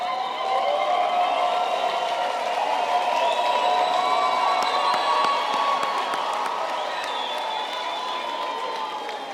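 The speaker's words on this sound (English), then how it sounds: "give a warm, wonderful, loud applause to those loved ones that sit in the audience" Sustained applause and cheering from a large graduation ceremony audience, steady and loud throughout with scattered whoops over a dense crowd wash.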